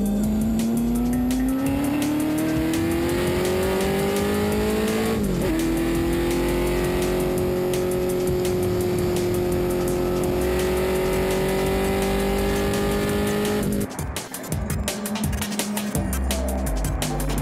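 A Ford GT40 and other race cars climb a hill in a race, engines loud and near with a sustained high rising drone, a gear change partway, tire noise, and a car roaring close past at the end.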